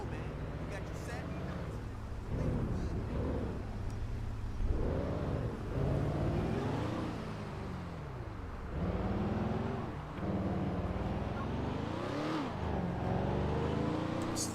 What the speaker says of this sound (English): Just listen to the sound of that V8 engine.